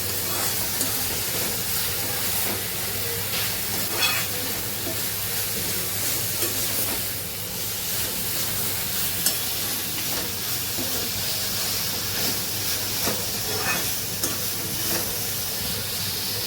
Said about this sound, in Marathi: हळद घालूया, मसाला लाल तिखट घालूया, छान परतून घेऊया मस्त.